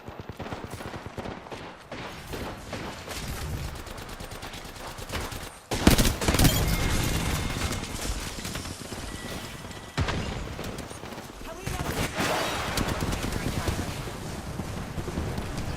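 Gunfire in the battle royale game Apex Legends, with sustained bursts of automatic fire and a loud burst partway through, with voices talking over the shooting.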